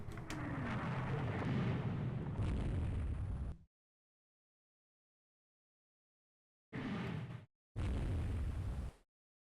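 Shells striking and exploding on warships in the naval strategy game Rule the Waves 3: a long loud rumbling blast, then silence, then two shorter booming explosions close together.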